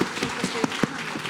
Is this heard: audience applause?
yes